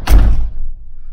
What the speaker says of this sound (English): so the door closes